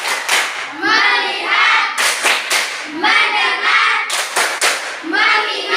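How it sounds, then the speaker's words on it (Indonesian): Children in a classroom do a rhythmic focus clapping game, loud bursts of group claps in a set pattern alternating with chanted words in unison. "Tepuk fokus."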